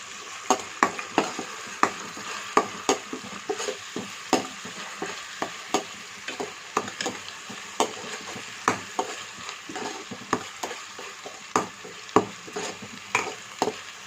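Green chilli paste with cumin and mustard seeds frying in a pan, a soft sizzle bed broken by frequent sharp pops and ticks from spattering seeds and stirring, close and without speech.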